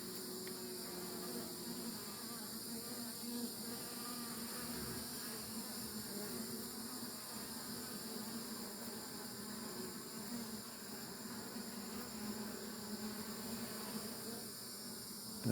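A honeybee swarm settled on a tabletop outdoors, giving a steady, dense buzzing hum that holds at an even, moderate level throughout with no speech.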